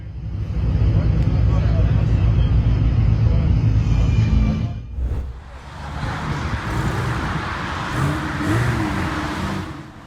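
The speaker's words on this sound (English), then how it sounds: "And yet another L for Ferrari, this time by blowing up their engine." A Ferrari supercar engine roars loud and close under heavy revving, then suddenly cuts and drops off before a lower, rougher engine noise continues.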